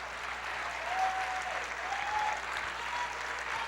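A church congregation claps together in a steady wash of applause at a resurrection-themed service, even and sustained, with faint sung or spoken tones drifting over the sound.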